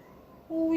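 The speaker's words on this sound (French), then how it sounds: "C'est mon tout petit chaton qui me demande." A very young kitten gives a single short meow, close by, following a moment of near quiet.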